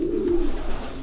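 Racing pigeons in a breeding loft give a single low, close coo over a soft background murmur.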